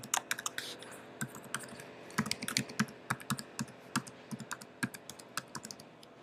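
Rapid, uneven keystrokes on a computer keyboard as a username is typed in for an email account login, crisp and close with no voices.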